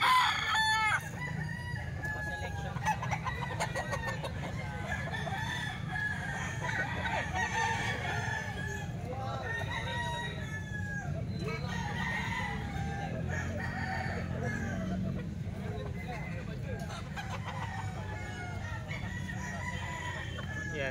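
Eight-month-old stag roosters crow repeatedly among clucking fowl, several calls overlapping near and farther off against a steady farmyard background.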